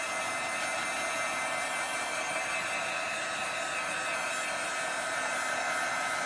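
A hair dryer blows steadily to dry paint on paper ephemera, a loud, constant airy roar that holds unchanged throughout with no talking.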